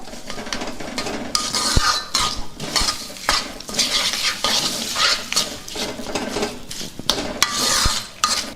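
Amla chutney stirred in a dish with a spoon, a close, busy run of metallic scrapes and clinks against the vessel, with a light sizzle beneath and no voices.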